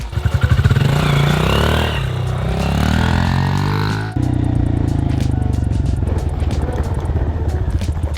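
A dirt bike engine revs hard while being ridden, a loud, close buzzing drone that climbs in pitch, eases off briefly and then picks up again, with a voice faintly heard under it.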